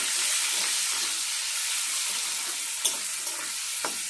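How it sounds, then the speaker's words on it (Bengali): Onion and potato frying in a pan seasoned with nigella seeds, a steady loud sizzle and hiss throughout with a couple of brief stirring scrapes near the end, close and without talk. "পেঁয়াজটাকে হালকা লাল লাল করে ভেজে নেব"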